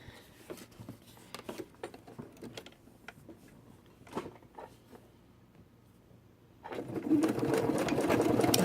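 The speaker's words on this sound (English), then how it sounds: "and then I sew it." A sewing machine stitches fabric for fursuit claws, with faint handling clicks and taps before the motor kicks in near the end as a steady, close, buzzing hum.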